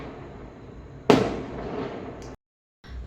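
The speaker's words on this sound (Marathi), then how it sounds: "फटाक्यांचा खूप जास्त आवाज येत होता" A firecracker bursts nearby with one sharp, loud bang, followed by a decaying crackle and rumble for about a second before the sound cuts to silence.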